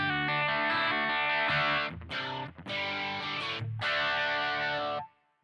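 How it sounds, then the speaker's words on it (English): Electric guitar played through a Kemper amp profile with a lightly crunchy, mildly overdriven tone, sustained chords ringing loud and close with a few brief breaks before fading out at the end. "has like a little more crunch to it."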